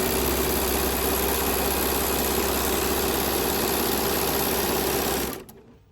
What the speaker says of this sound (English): I'm going to come in and sew on the line between A1 and A2.